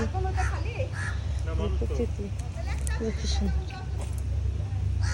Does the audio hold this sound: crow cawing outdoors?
yes